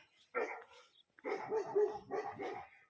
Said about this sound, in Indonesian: Oh, ada anjing ngegonggong.